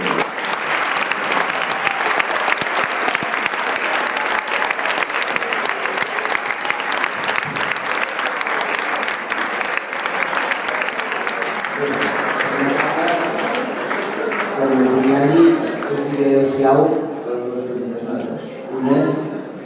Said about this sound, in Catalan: demanaria un fort aplaudiment per aquest senyor.